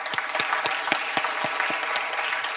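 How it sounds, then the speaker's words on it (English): A conference audience applauds panelists after a panel session on investment for smallholder farmers: steady, fairly close clapping from a moderate crowd, with distinct individual claps over about two and a half seconds. "if we can just give the panelists another round of applause"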